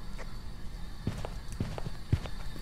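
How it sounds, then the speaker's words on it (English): Running footsteps in the Phasmophobia ghost-hunting game thud quickly in a short uneven burst of about five or six steps, fairly faint over a quiet background. "Oh, I just heard footsteps."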